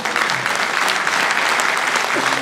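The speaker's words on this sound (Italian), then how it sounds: "Un applauso a Gino anche" Audience at a mayoral campaign rally in Civitavecchia, Italy applauds steadily and loudly, a dense continuous wash of clapping from a crowd throughout.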